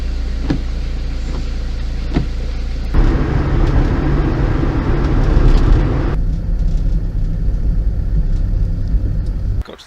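A van towing a trailer drives along on a working day, a steady loud engine rumble inside the cab with road noise that swells mid-clip and then settles into a lower, smoother drone.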